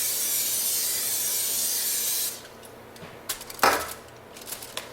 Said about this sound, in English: Just going to spray the pan with some of the cooking spray.